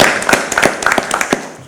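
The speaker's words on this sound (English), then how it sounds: "So round of applause for them." A short round of applause at a county fiscal court special meeting, with scattered, uneven claps from a small group in a hall, fairly loud and close.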